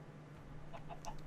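Soft clucking of a chicken in the Minecraft FoolCraft modpack, a few short faint clucks heard alone over a quiet background hum.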